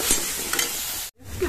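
Masala frying in oil and being stirred gives a brief close hiss and sizzle that cuts off abruptly for a moment before resuming softly.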